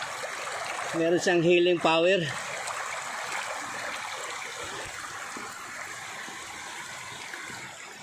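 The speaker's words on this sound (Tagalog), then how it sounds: "Yung pagka narinig ko itong sound ng tubig" A stream of water flows down a waterfall on a climb to the falls, a steady rushing wash throughout; a voice speaks briefly early on over it.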